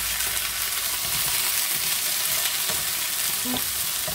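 Rabbit pieces and onions fry in a pan over heat slightly too high, browning to the edge of burning, with a steady close crackling sizzle and occasional soft scrapes and clinks of a spoon stirring.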